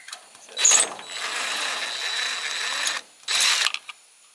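A ratcheting tool backs screws out of an old light fixture in a greenhouse build, giving a sharp burst, a steady mechanical whir lasting about two seconds, then another short loud burst, all close up.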